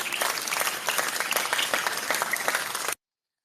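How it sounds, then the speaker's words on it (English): A crowd at a World Poker Tour event breaks into lively applause, dense overlapping claps held steady and close for about three seconds before cutting off abruptly. "Brandon coming in hot with the applause."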